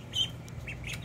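Ducks in a brooder give a few short squawking calls over a low background hum, fairly close and brief.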